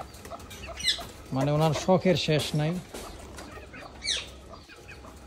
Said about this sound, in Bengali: এখানে আবার মোরগ